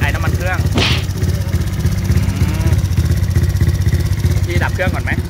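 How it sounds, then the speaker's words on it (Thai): A heavily customized motorcycle engine running close by, a loud steady low throb and rumble throughout, with someone talking over it. "พี่ดับเครื่องก่อนไหมเดี๋ยวน้ำมันหมดครับ"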